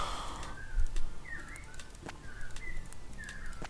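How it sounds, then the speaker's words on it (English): A pigeon coos outdoors in a repeated series of soft, rolling calls, moderately close, with faint background noise and a few light clicks between the calls. "That's the 1 o'clock bird."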